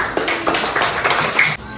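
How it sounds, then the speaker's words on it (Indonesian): A fourth-grade class claps hands together in a lesson, a dense burst of applause that fills the room for under two seconds. "Tepuk tangan untuk energi."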